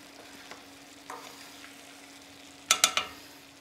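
Minced meat frying in oil in a pan, a low steady sizzle with a few soft stirring scrapes, then a cluster of sharp clatters near the end, close and fairly quiet.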